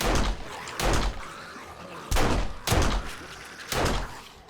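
Weapon reloading in 7 Days To Die, heard as a series of five sharp mechanical clacks and thunks in an uneven rhythm, loud and close over a noisy background.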